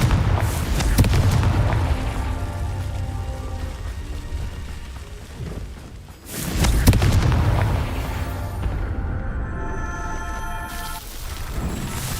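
Confringo explosive spell blasts from the Hogwarts Legacy video game, with two heavy booming bursts that each roll off into a noisy rumbling decay, loud and close, with a fainter tonal game ambience between them.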